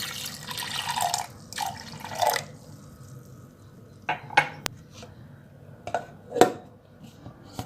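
A glass of water poured into a blender jar while making masala chaas (spiced buttermilk), a splashing pour followed by clinks and knocks of glass and utensils, close and alone without talk.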